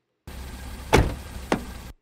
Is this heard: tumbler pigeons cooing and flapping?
no